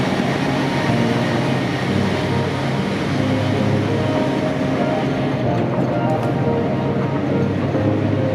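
A steady, loud rumble from inside a passenger train on a 7 o'clock service to London Paddington, running at speed with constant wheel and engine noise and no breaks.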